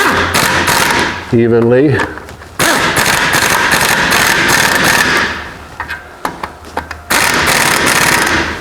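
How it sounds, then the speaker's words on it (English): Bolts fitted with lock washers and blue Loctite are tightened during a Camso UTV 4S1 track install on a Suzuki Samurai. Loud bursts of mechanical whirring and rattling ratchet noise stop and start, with a brief spoken word in between. "So just screw them in. Going to tighten them up"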